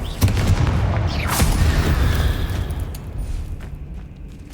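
Blasting spell explosions from Hogwarts Legacy boom out in heavy, rumbling bursts, with a sharp crack early on and a decaying roar afterward, loud and close with game ambience beneath.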